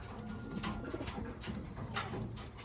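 Pigeons from a batch of Taiwan birds coo softly over a steady background hum, with several low repeated coos spread through the clip.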